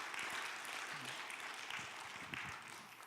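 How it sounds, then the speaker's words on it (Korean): Congregation applause at a dawn revival service in a church, a steady, moderately faint wash of clapping that runs the full length with a few murmured voices underneath. "박수 한번 해줘요."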